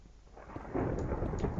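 Thunder in the Feed The Beast Minecraft video game rolls in as a deep, loud rumble that swells after a brief buildup, heavy and sustained.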